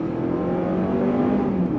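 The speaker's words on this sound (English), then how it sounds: "And while you do hear the engine," A 2023 Honda CR-V hybrid's engine drones steadily as the SUV accelerates, a moderately loud sustained hum heard from inside the cabin.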